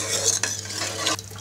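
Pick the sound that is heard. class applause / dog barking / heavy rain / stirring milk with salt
stirring milk with salt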